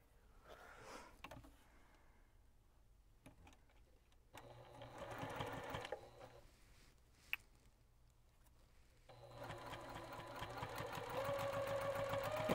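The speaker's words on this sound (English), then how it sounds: "I'll just go ahead and sew that one." A sewing machine stitching fabric at a crafting table, running in several bursts of rapid mechanical whirring that grow steadier and louder toward the end, fairly close and with no talk over it.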